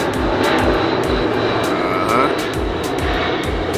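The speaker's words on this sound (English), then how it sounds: "See a plane flying above." A steady, broad engine roar of a UPS plane passing overhead, loud and continuous with faint rhythmic thumps underneath.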